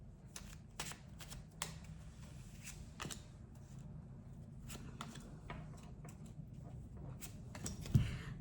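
Tarot cards are handled and shuffled in a quiet room, with repeated soft riffling and sliding bursts, close and faint, and no talk.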